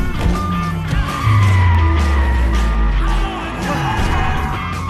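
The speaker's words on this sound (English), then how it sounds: "effortlessly turns the car 180 degrees to avoid a collision, and 180 degrees back on course" A car skids and spins 180 degrees in a movie stunt, a loud, sustained tire screech over engine roar that swells in the middle and then eases off.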